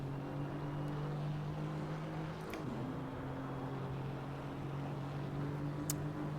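A car engine drones steadily at moderate volume as it powers down a long straight of the Adelaide 1988 circuit in Gran Turismo 4, with a brief dip in pitch partway through and no talking.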